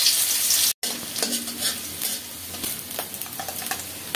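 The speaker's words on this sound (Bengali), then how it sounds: "পেঁয়াজ দিলাম তেলে," Onions hitting hot oil in a pan, a loud bright sizzle that starts at once, briefly cuts out, then settles into a steady frying crackle with small pops, no talking.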